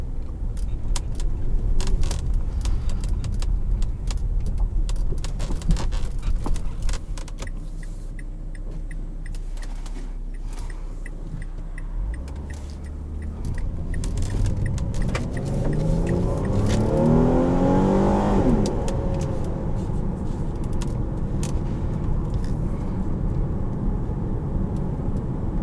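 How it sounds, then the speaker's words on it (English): A 2014 Mazda CX-9 Grand Touring pulling away and cruising on the road, with a steady engine hum and road noise, a rising acceleration sweep midway, and light rattles and jingling inside the cabin. "put it in drive, and hit the road"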